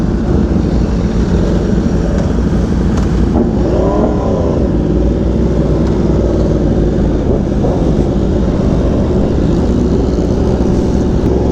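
Eight motorcycles, a Yamaha R1M among them, ride together on a group beach ride, giving a loud, steady engine roar throughout with a rising rev or pass-by swell near the middle.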